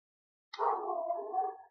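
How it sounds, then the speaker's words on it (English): A neighbour's dog gives a single drawn-out howling whine that starts abruptly after silence, fairly close and clear, with no speech over it. "the dogs next door have been barking a lot the last hour or so"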